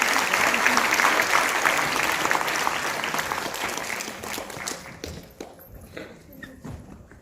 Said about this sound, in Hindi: काजल, जोरदार ताली के साथ स्वागत करें।